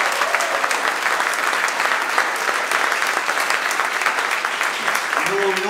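A crowd gathered for the Réinfo Québec team bursts into dense, sustained applause, a thick continuous roar of clapping with no pause, loud and close.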